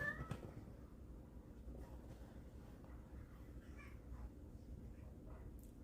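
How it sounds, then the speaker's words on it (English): A house cat meows indoors: a clear short meow at the start, then a fainter one later, both quiet against a low room hum. "What are you meowing for?"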